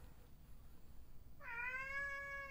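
A pet cat named Wakame gives one clear, drawn-out meow after a quiet stretch, close and moderately loud against faint background hiss.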